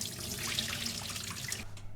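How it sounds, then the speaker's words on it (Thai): Water poured off a baking tray of chicken skin for keto fried snacks splashes and trickles in a steady, quiet stream that thins briefly near the end. "เทน้ำอีกถาดนึงก่อนจ้ะ"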